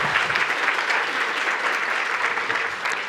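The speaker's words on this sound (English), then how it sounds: "You may hold your applause till I finish reading the list." Benefit event audience breaks into continuous, fairly loud applause, a dense steady patter of many hands clapping with no talk over it.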